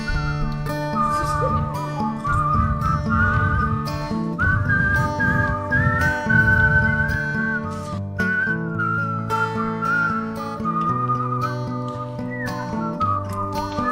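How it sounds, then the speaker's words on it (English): A group whistles a melodic solo together at a Friday night Shabbat service, with clear sustained tones rising and falling over soft accompanying background sound. "Group whistle solo."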